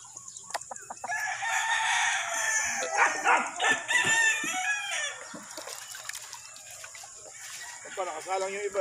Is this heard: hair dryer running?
no